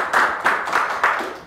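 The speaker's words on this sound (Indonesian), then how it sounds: "sekali lagi tepuk tangan untuk kita semua yang berada di sini" A short burst of audience applause at an indoor health talk session, with rhythmic clapping at close range for about a second and a half.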